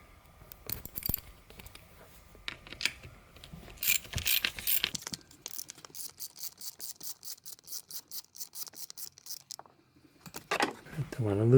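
Ratchet socket wrench with a 9/32 socket turning a tiny nut on the antenna mast gear housing of a 1998 Ford Contour, close rapid clicking in short bursts with pauses and some handling noise.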